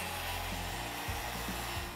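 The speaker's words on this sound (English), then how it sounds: "we use a skill saw and put 2 cuts in" Circular saw cuts grooves into a log wall along an OSB guide, a close, steady high whine with shifting low tones as the blade bites into the wood, continuous for two seconds.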